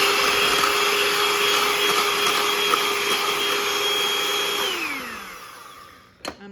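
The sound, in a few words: electric mixer whipping egg whites with powdered sugar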